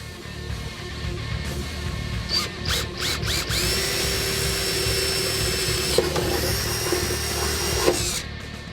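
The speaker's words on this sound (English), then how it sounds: "Now we're going to drill the radiator support for the holes for our fog light wiring." A power drill bores into the steel radiator support of a 1965 Ford Mustang, with several short starts and then a sustained high whining run, close and loud, with occasional clunks.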